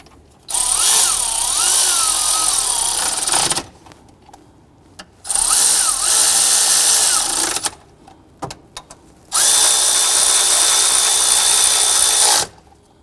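Power tool driving in the power steering pump bolts on a 2007-2014 Cadillac Escalade 6.2L V8, three loud sustained whirring bursts of about three seconds each with short pauses between, close up and without talk.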